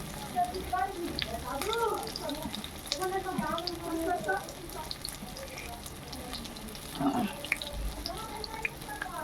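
Ash gourd leaf fritter lowered into hot white oil in a kadai; a steady bubbling sizzle runs throughout, with a voice talking over it.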